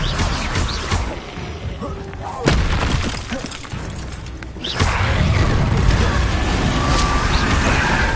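The Confringo blasting spell in the Hogwarts Legacy video game sets off booming explosions with crashing, shattering debris, loud and broadband, with a sharp burst near the middle and a sustained rumbling roar toward the end.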